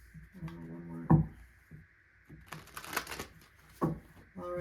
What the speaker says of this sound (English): do a few shuffles here.